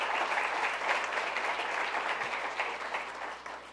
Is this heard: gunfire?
no